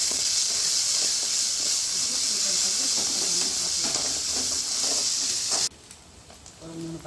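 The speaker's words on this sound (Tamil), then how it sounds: "கொஞ்சம் சீக்கிரமாக வந்து ஃப்ரை ஆகும்." Masala frying for chicken curry in a pan, a loud continuous sizzle and hiss that cuts off abruptly near the end, leaving quieter background sounds.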